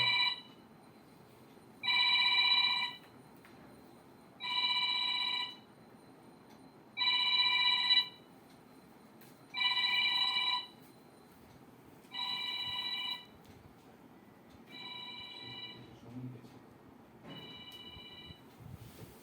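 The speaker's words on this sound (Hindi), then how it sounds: "थोड़ा सा वो फोन बज रहा था" A telephone rings in a steady repeating pattern, about eight bright electronic bursts roughly every two and a half seconds, the later rings slightly quieter, alone in a quiet room with no talk.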